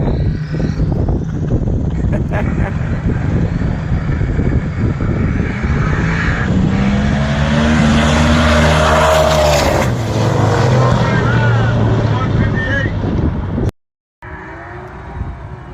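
A Ford Mustang roars loudly on a race track, its engine rising and falling as it passes close by, with a Doppler-like sweep in the middle and a brief sudden cutout near the end.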